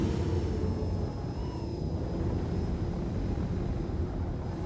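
A jet in the game Star Citizen screams along at low altitude near Mach 2, a loud, unbroken roaring rush of engine and wind noise with a thin high whine running through it.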